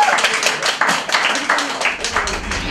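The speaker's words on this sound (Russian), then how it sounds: "Громче аплодисменты" Wedding guests clap along at a reception, a fast rhythmic run of claps heard close alongside a host's speaking voice over the top.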